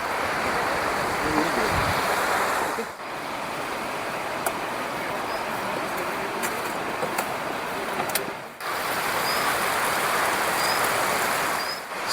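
Heu Nala, a mountain river, rushes under an old wooden bridge in Sarthal Valley, a loud, steady broadband roar of water that briefly dips twice, with faint clicks over it.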